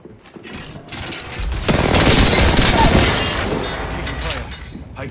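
Rapid bursts of automatic gunfire from an R-99 in Apex Legends, loud and sustained for several seconds, building after a quieter start, with a voice talking underneath.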